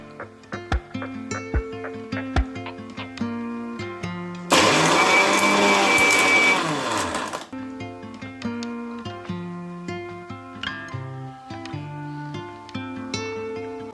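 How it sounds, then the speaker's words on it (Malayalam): A mixer grinder powders sugar together with ginger, cloves, cinnamon and grated nutmeg for a plum cake, giving one loud, steady whirring burst of about three seconds that cuts in and then stops, set between quieter musical tones. "പൊടിച്ച പഞ്ചസാരയിലേക്ക് 1 കഷ്ണം ഇഞ്ചി, 4 ഗ്രാമ്പു, 2 ചെറിയ കഷ്ണം പട്ട, ജാതിക്ക ചുരണ്ടിയത് എന്നിവ ചേർത്ത് ഒന്നും കൂടെ നന്നായി പഞ്ചസാര പൊടിച്ചെടുക്കാം"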